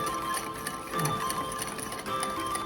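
Electric mixer beating sugar into cake batter in a home kitchen, a steady close whirring drone with faint rhythmic ticking that holds evenly throughout without talk.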